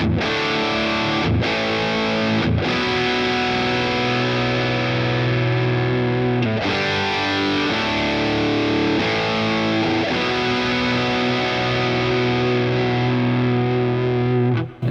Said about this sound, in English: So let's have a look at this high gain tone.